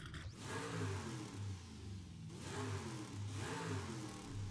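A modified Chevy SS engine-swapped car revving in the Forza video game: a steady mid-pitched engine drone rising and falling in repeated rev swells, loud and alone with no talk.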